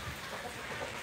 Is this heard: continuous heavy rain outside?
yes